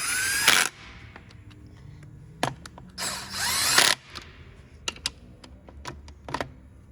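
Power tool tightening the wheel or body bolts on a 2019 Hyundai Veloster in a crisscross pattern, with two loud whirring bursts followed by sharp clicks and clacks at close range.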